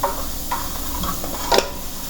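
Vegetables with pickled green chilies sauté in a pan with a low, close sizzle, broken by light stirring scrapes and a brief louder clatter; no talking.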